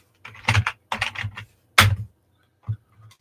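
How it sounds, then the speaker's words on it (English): Bursts of typing on a computer keyboard, close and fairly loud, coming in a few quick flurries separated by short pauses, with no talking. "I'm going to type something because I can't see you."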